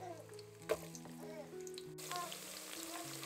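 Carrots frying in oil in a pan: a soft, continuous sizzle with a light clatter as they go in, heard under steady background music.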